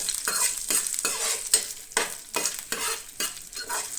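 Sliced onion sizzling in a hot pan while being stirred, a close, continuous crackling fry with rhythmic scraping pulses as the pieces are turned, no talking.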